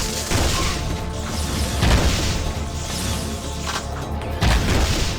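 Peacemaker gun in the video game Jak II: heavy booming shots, about four spaced blasts over a dense, loud background of game noise and rumble.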